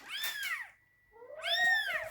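A young kitten, found alone on a highway without its mother, gives two loud, drawn-out meows separated by a brief pause, close up and with no other sound.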